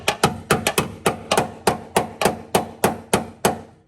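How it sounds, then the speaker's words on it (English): Sharp metallic hammer blows on an intercooler mount strike in a steady, fairly quick rhythm, about a dozen hits close up with ringing decay and no talking. "Now, we're going to take the hammer because hammers are fun."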